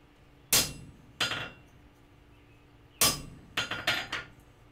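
A hammer strikes a chisel cutting hot steel during forging of vice cheeks: six sharp metallic blows in two groups, the last few in quick succession, ringing over a quiet workshop background.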